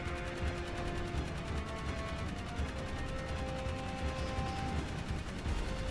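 Steady gunfire fills the Jak 3 game scene, a dense, continuous stream of shots over a busy backdrop of game sounds, with no talking.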